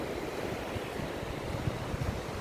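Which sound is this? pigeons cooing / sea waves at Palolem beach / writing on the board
sea waves at Palolem beach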